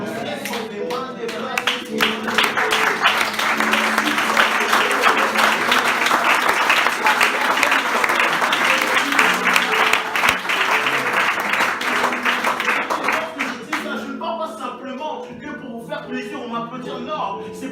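A church congregation bursts into sustained applause during worship, loud, dense clapping with scattered cheers that swells for over ten seconds, then dies away as a voice takes over.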